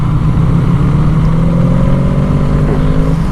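A Honda Magna motorcycle engine idles low and loud nearby with a steady throbbing chug, its pitch sagging slightly as it struggles at too low an idle setting.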